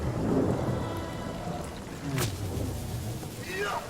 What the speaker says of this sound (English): Rain will also wash away any of the poison that may be a problem.